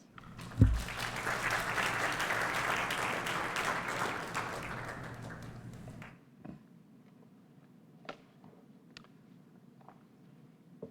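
Warm audience applause welcoming a speaker at a Pioneering Punjabis digital archive project launch, a sharp start then sustained clapping for about five seconds before fading into a quiet room with a few stray sounds.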